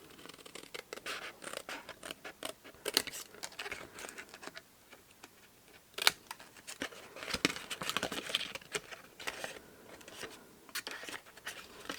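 Scissors snip and trim card stock while making a no-glue mini favour box, giving quiet, irregular crisp cuts at close range over a soft background.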